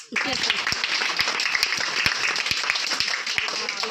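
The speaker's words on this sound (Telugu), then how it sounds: "అందరి క్లాప్స్." Group of children applauding together, dense close clapping filling the whole stretch with voices mixed in underneath.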